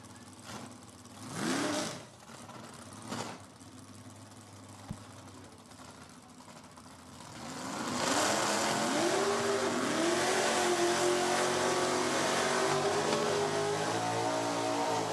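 Stock eliminator drag race cars at an NHRA Division 4 event at No Problem Raceway, engines idling and blipping as they roll toward the water box, with brief revs early and a louder sustained engine drone building later.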